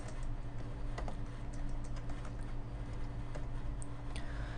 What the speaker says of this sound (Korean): F5키를 한번 눌러보겠습니다